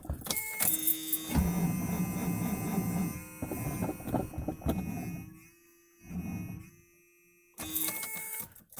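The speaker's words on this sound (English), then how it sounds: "Kind of thought it would actually fire the way it was turning over." A 1976 Cadillac engine cranks over on a cold start without firing: a whirring starter turns in several bursts separated by short gaps, loud and close, with no voices.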